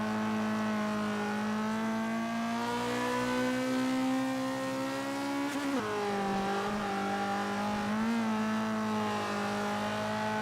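A Lotus Elan D race car engine drones steadily in Forza 5, holding a high rev with smooth pitch shifts through gear changes and a brief tire scrub around midway, loud and continuous.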